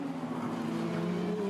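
A race car at the 2020 Townsville Tintops round powers out of a corner, its engine note climbing steadily as it accelerates hard, loud and close, with a faint trace of tyre noise and no talk.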